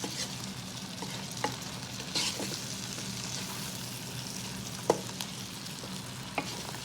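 Snow peas being sautéed and stirred in a Power XL cooker give a soft steady sizzle, broken by a few brief scraping clicks of the utensil moving through the pan.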